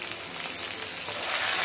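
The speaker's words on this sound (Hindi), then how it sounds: "कढ़ाई में मैं छोंक बना रही हूँ कढ़ी के लिए" Onion, garlic and fenugreek tempering in hot mustard oil in a wok, a steady close hiss of frying that swells slightly toward the end, with no voices.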